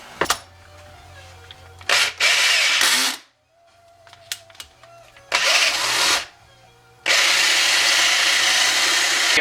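A power drill whines in several bursts while enlarging the holes in battery cable terminals on a 1986 Mustang GT battery relocation, with pauses and small tool clicks between runs.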